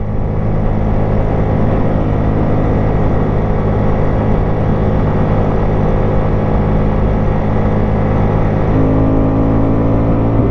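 A 1996 Yamaha Wolverine 350 ATV engine droning loud and steady while riding at cruising speed with barely open throttle, a constant close rumble with wind noise throughout.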